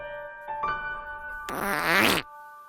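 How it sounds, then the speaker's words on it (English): A cartoon fart plays as a long wet, sputtering blast that rises to a loud climax and cuts off, with a steady tonal background before it and no talking. "The whole time I was eating farts for nothing."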